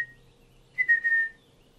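A brief, thin whistle rises and wavers for about half a second, airy and uneven, like someone struggling to whistle.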